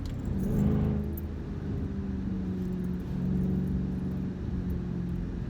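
A 2014 Shelby GT500 engine in second gear at about 3,500 RPM holds a steady mid-range drone, rising and easing slightly in pitch as it revs, heard from inside the cabin with no talking.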